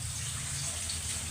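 Water runs steadily into a cooking pot for Filipino adobong puti, a soft, continuous pour lasting just over a second with no talk over it.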